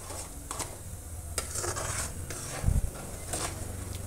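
Tomato chutney with jaggery and sugar stirred slowly in a pan, giving soft scraping and rubbing strokes of a spoon against the pan, with one duller knock partway through and no talking.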